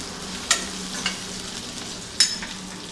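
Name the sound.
roasting onion and green chili in a pan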